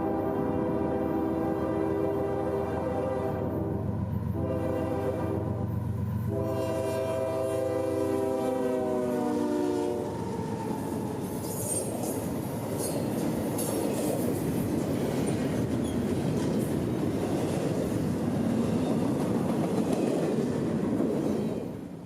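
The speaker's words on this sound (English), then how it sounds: "This would be a nice train for rail fans, as 2 Union Pacific GE locomotives would power this train south." A Norfolk Southern freight train led by two Union Pacific GE locomotives sounds a long, loud multi-tone horn for about ten seconds, then rumbles past close by with steady roaring wheel and engine noise to the end.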